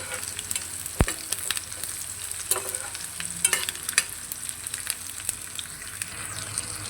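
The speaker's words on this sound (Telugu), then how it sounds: "ఇవి బాగా వేగిన తర్వాత ఇందులో కొన్ని ఉల్లిపాయలు అయితే వేసుకోవాలి." Onions and curry leaves fry in oil with a steady close sizzle, broken by repeated scrapes and knocks of a spoon stirring the pan.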